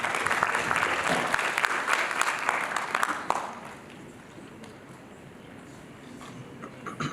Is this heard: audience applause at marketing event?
yes